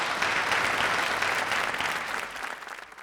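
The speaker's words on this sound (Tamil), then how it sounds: "நீங்கள் ஒரு பெரிய கரகோஷம் கொடுத்து" Sustained applause from a crowd, dense and steady clapping that fades slightly toward the end.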